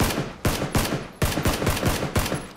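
PUBG gunfire with bullets striking a wire fence: a rapid string of loud, sharp cracking shots in uneven clusters, close and dominant, with no talking.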